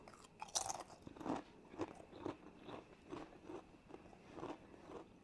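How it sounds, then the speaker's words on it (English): Crunchy chips topped with cheese and sour cream being chewed close up, a run of regular crisp crunches spaced about half a second apart, fairly quiet and with no talking. "Nice crunch, cheese and sour cream."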